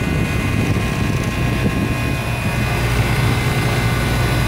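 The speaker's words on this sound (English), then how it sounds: "now we have brand new condenser fan motor and unit back working again" A new condenser fan motor on a walk-in cooler unit in an attic runs steadily, a loud continuous whirring drone with a constant tone and no voices.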